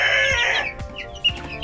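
A young male chick held in the hand cheeps and chirps close up, a few quick bright peeps over a softer rustling background in a short burst.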